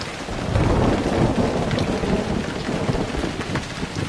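Thunderstorm in the emergency-response game 911 First Responders: steady heavy rain hissing throughout with low rumbling thunder swelling after the first half second, loud and continuous with no talking.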